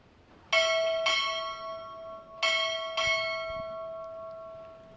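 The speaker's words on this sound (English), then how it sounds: "Time orderly, strike 4 bells." A ship's bell at a U.S. Navy boot camp graduation strikes four times in two quick pairs. Each clear metallic ring hangs and fades in an otherwise quiet hall.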